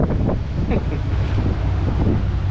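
Strong wind blasts the microphone on a boat travelling the Great Loop waterway toward Georgia, a constant loud roar with faint indistinct voice fragments buried underneath.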